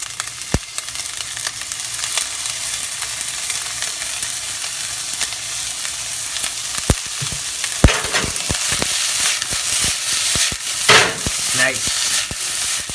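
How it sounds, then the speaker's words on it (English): Garlic and vegetables sizzle steadily as they fry in a pot, a continuous hissing crackle with sharper pops and clicks of stirring growing busier toward the end. "We're going to add our garlic right into that pot."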